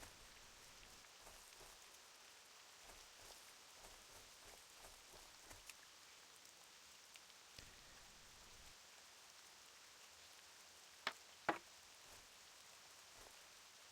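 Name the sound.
rain in the video game Classic World of Warcraft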